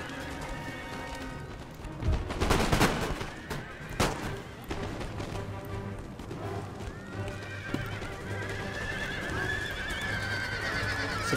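Horses neigh and hooves clip-clop amid sharp gunfire bursts around two and four seconds into a cavalry battle in the Empire: Total War strategy game, with a steady low battle rumble underneath throughout.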